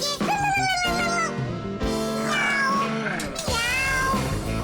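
A cartoon cat meows several times in a row, loud and close, with drawn-out, wavering cries that rise and fall.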